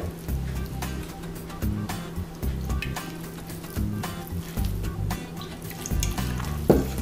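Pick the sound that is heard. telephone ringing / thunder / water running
water running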